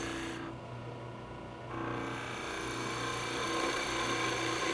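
A skew chisel makes light cuts on wood spinning on a lathe, a steady mechanical hum and whir with a soft scraping hiss that swells slightly after the first couple of seconds, close and fairly quiet, with no talking.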